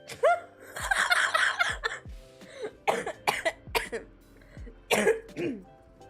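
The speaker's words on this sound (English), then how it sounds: "I'm so sorry that I'm coughing." Several harsh coughs in bursts, some close together and others spaced apart, with a throat-clearing sound, close and fairly loud.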